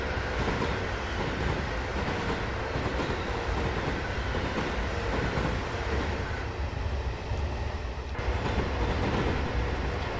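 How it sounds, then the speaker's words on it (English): A Pendolino train in a train simulator game runs along the Woodhead line, giving a continuous loud rumble of wheels and a steady rolling noise without pause. "we're driving a Woodhead on the Pendolino"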